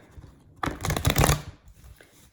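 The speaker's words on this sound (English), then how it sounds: "One more shuffle" A quick riffle of tarot cards being shuffled, a dense burst of rapid papery flutters lasting under a second, close and fairly loud, followed by a soft settling of the deck.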